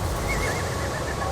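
An animated horse whinnies in a wavering call over a dense, loud backdrop of intense film music, from the animated film Spirit: Stallion of the Cimarron.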